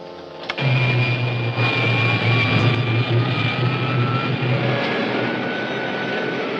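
Rocket jet engines fire in an old film serial, a loud, continuous roaring rush that swells abruptly and holds steady, with a faint high whine threaded through the blast.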